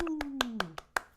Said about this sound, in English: Round of applause to the Moonman.